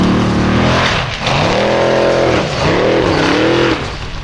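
Icelandic formula offroad race car at Stapafell, engine loud and close with rising and falling revs, several sharp throttle swells and dips as the driver works the car, no talk over it.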